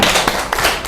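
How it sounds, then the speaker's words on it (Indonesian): A school class claps a quick salute rhythm, a few sharp, close claps and taps in a short patterned burst within about a second. "Beri tepuk salut untuk kelompok Noel."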